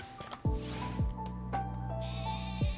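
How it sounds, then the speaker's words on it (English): Synthetic, tonal sheep bleats from Pokémon Sword and Shield repeat several times in a steady rhythm, each starting with a sharp downward swoop over a sustained buzzy tone. "Sheep."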